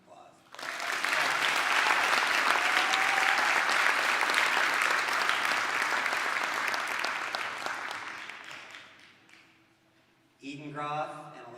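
An audience at a student awards ceremony gives a sustained round of applause that holds strong for several seconds and then fades. A speaker's voice resumes near the end.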